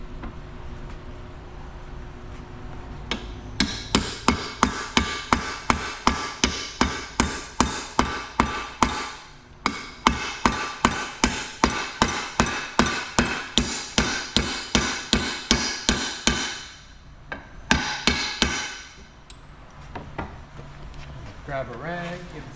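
A hammer knocks a metal shaft through a part, cushioned with a rag: a long run of rapid, evenly spaced sharp blows in several bursts with short pauses, loud and close, with a voice faintly underneath.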